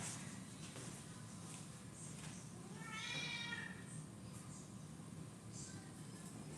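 Domestic female cat meowing briefly once around the middle, a short mid-pitched call over a steady indoor background hum.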